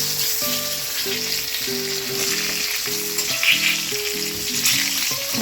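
Eggplant slices frying in a pan give off a constant crackling sizzle, close and steady, with a repeating tonal hum pulsing underneath and no talking.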